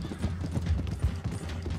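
Horse hooves clip-clopping in Red Dead Redemption 2, a close, moderately loud trotting rhythm of repeated hoof strikes with no talking.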